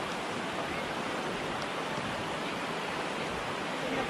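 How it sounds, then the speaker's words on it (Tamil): Fast-moving river water rushes steadily over rocks at Nisargadhama in Coorg, India, a continuous broadband roar with no breaks or voices. "ஃபுல்லாக இங்கே தண்ணி தான் போய்கிட்டு இருக்கு"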